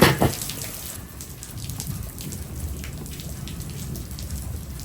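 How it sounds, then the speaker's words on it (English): Steady rain falls during a storm outside, a dense, even patter of drops hitting surfaces close by, opening with a louder knock and then continuing without a break. "Still storming."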